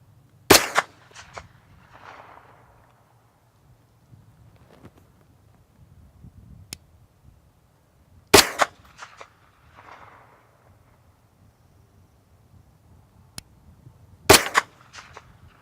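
Three sharp 9mm pistol shots fired at a distant target ring out several seconds apart, each loud and crisp with a short echo, and a faint impact or rustle follows between them.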